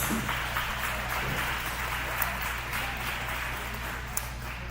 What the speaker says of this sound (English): Let's give those guys a big round of applause.